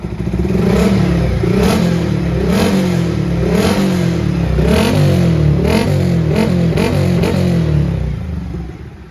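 A Yamaha Vixion R motorcycle with an aftermarket racing exhaust revs hard and loud, the engine note rising and falling in repeated throttle blips over several seconds with a rough, clattery edge.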